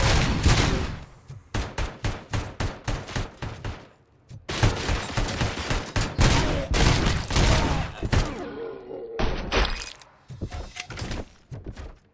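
Heavy automatic gunfire from the ED-209 enforcement robot in the video game RoboCop: Rogue City, with loud rapid bursts separated by short pauses and a few impact thuds and clatters between volleys.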